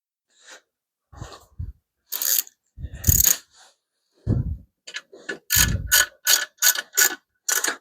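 Small ratchet wrenches are worked on bolts during an engine lifter repair, giving close, sharp clicking bursts in irregular groups that quicken into a rapid run of ratchet clicks near the end.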